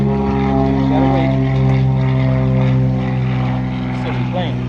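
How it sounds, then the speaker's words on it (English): A propeller airplane drones steadily overhead during an outdoor nature outing, a loud, continuous hum with a faint rise and fall, while people talk softly underneath. "Silly plane."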